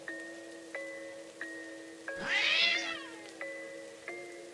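A drawn-out, wavering cat-like meow rises and falls over a steady background of sustained tones with soft periodic pulses, in an eerie horror setting; it may be a voice imitating a cat.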